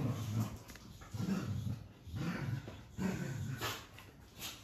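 Dogs in a workshop shed whimper and growl in short bursts, fairly close, with background noise throughout and no talk.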